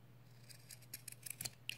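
Scissors snip and trim fabric wipes beside a sewn seam, a quick run of small, close, crisp cuts in a quiet room.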